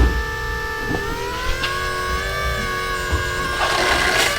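Swapped engine winds up to a rising, jet-like whine, steady harmonic tones climbing and holding near and loud, with a brief whoosh of air near the end.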